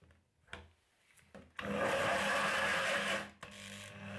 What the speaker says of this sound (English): I used an old drilling machine for the hole saw.